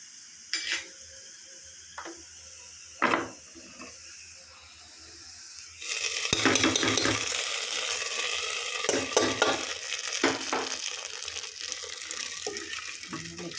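Fried shallots being stirred into uluva kanji, a medicated rice porridge, with a few faint knocks at first, then a steady sizzling, scraping stir with occasional spoon clatter.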